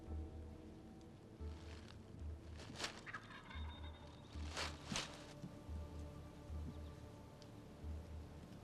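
A wild turkey gobbles in an old, long-dormant field grown into dense nesting cover, giving two or three loud, rattling gobble bursts over a quiet, faintly rushing background.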